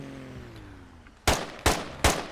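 Three loud single gunshots in the tactical shooter Squad, fired from behind into a vehicle's driver compartment, evenly spaced and following a faint, low vehicle hum.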